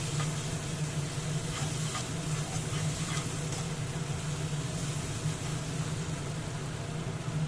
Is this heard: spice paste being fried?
yes